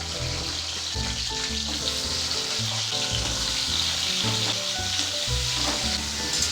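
Cut potatoes with black nigella seeds frying in hot oil over high flame, a dense, steady sizzle running throughout with soft stirring scrapes underneath, close and fairly loud.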